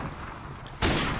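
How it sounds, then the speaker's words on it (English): Gunfire in a video game, a sudden loud burst of shots cutting in near the end after a stretch of quieter game ambience. "Oh, I shot him first!"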